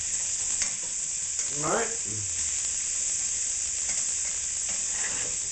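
Hard vegetables and onions frying on high heat in a soup pot, a constant loud sizzle and hiss with a few stirring scrapes, and a voice speaking briefly over it.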